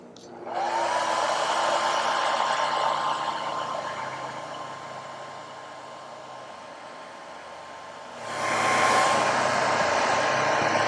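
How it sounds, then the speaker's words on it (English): A hair dryer drying paint on miniatures blows with a steady whooshing whine, easing slightly in strength before surging louder again near the end. "Alright, hit it with the hair dryer."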